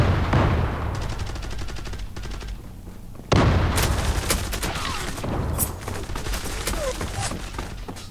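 Loud automatic gunfire in the online shooter game Zula rattles in dense rapid bursts, pausing briefly before a sharp blast and more sustained firing.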